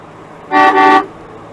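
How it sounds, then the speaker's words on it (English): A single loud, bright horn on a 1952 Jaguar XK120 honks twice in quick succession, close by, with a brief dip between the blasts, then quiet. "Fabulous horn."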